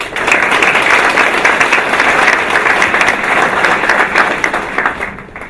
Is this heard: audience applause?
yes